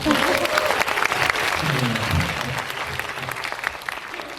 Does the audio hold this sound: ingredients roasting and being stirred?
no